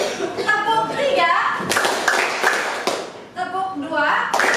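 A class of students claps hands in a classroom, a few sharp group claps cutting through a teacher's voice, which talks over and between them.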